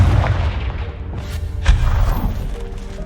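The Confringo fire spell explodes in the Hogwarts Legacy video game. A loud, close, rumbling boom opens the clip, a second thump follows midway, and a heavy low roar carries on throughout, with no talk.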